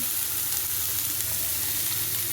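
Radish greens hit a hot frying pan and sizzle loudly, a steady, dense crackle that holds evenly for the whole stretch with no talking.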